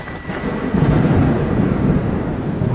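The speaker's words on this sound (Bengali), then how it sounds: "তখনই কাছে পিঠে কোথাও ভীষণ জোরে বাজ পড়ল।" Loud, close thunder crashes and rolls during steady rain, a deep rumbling swell that builds within the first second and holds heavy through the rest, with rain pattering throughout.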